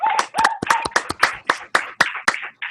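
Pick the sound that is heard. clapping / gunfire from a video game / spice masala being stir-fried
clapping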